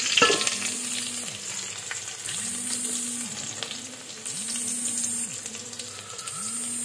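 Crushed garlic and small onions frying in a pan for a Tamil fish curry (meen kulambu), a steady close sizzle with a low rhythmic stirring sweep repeating about every second and a half, no talk.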